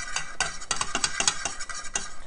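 A thick mac and cheese mixture seasoned with paprika is stirred with a utensil, giving quick, irregular scraping and clinking strokes against the pot, close and fairly loud, with no voices.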